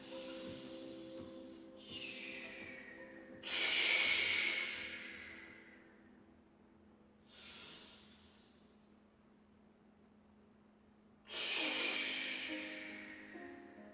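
Slow, deliberate breathing accompanies tai chi movements in a class, with long airy inhales and exhales in an unhurried rhythm, close and soft in a quiet room.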